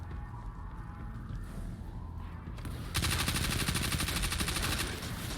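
Rapid automatic gunfire in the shooter game Destiny 2, starting faintly and then bursting into a loud, steady stream of shots that continues to the end.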